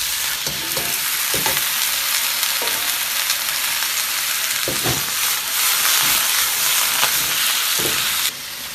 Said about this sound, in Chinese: 先炒肉，豆角先下锅。